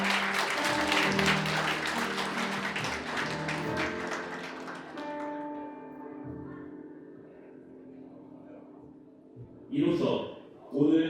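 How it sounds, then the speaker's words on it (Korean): Applause from wedding guests fills a ceremony hall over music and fades gradually, giving way to quieter music, with a couple of louder bursts near the end. "박수 더 크게 부탁드리겠습니다."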